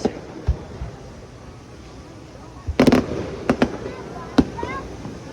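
Fireworks bursting over a river at an American crowd celebration in 2022, a cluster of sharp booms and crackles after a quiet stretch, followed by a few isolated pops at moderate distance, with faint crowd voices in the background.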